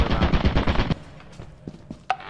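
A rapid burst of automatic turret fire in the video game Lethal Company rattles loudly for about a second, then cuts off, followed by a few faint scattered clicks and one sharp impact.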